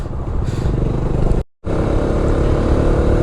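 A motorcycle engine drones steadily up close while climbing uphill at night on the Ooty–Avalanche road, with a brief dropout midway before the throaty hum resumes.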